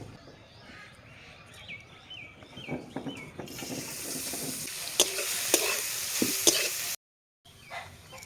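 Carrots fry in a kadai (wok) for lemon-leaf khichuri. Soft clinks and stirring taps come first, then a loud, bright, continuous sizzle swells in with scattered utensil scrapes.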